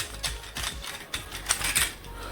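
A toilet flush mechanism is unscrewed up close, giving a series of scraping plastic clicks and grinding turns, irregular and moderately loud, with no talking.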